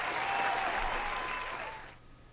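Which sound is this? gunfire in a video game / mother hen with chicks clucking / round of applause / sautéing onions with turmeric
round of applause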